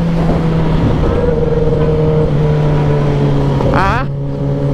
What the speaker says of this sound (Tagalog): Maingay tambucho?